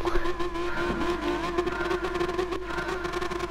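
Car racing video game played with a steering wheel and pedals, a steady loud engine drone holding one pitch with small revving swells throughout, no voices.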